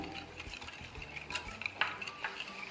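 Sugar, egg yolk and warm milk stirred together in a bowl for a pineapple cake batter, making quiet, close scraping and light utensil clinks in a steady rhythm.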